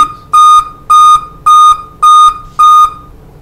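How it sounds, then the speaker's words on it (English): Five loud, evenly spaced electronic beeps from a Dell M5030 laptop failing to power up, each a steady high tone lasting about a quarter second, with short silences between them. "pressing the power button, not going to power up. It's going to beep."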